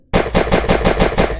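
Rapid automatic fire from a handgun in an Unreal Engine 4 third-person shooter, about seven loud, evenly spaced shots in quick succession after a brief silence, with no talking.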